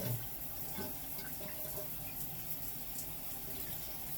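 Running water flows steadily from a tap as body scrub is rinsed off, a soft, even splash heard alone at low volume.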